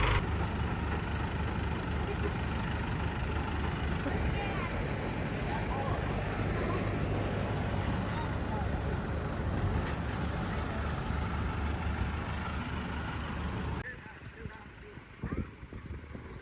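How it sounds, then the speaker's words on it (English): A Mahindra tractor engine runs loud and steady nearby as a broad continuous rumble, cutting off near the end, with speech faintly under it. "You won't be able to hear because of the tractor."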